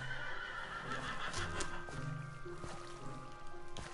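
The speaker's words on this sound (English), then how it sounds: "Oh, that's a horse. I was hitting a horse." A horse in Minecraft neighs and whinnies repeatedly while being struck, with short hit thuds and hoof clops mixed in, loud and close with no talking.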